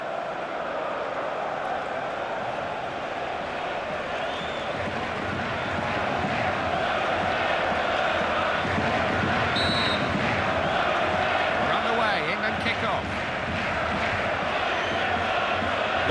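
Steady stadium crowd roar in the football video game FIFA 15, a continuous wash of distant voices swelling slightly midway, with brief scattered calls on top.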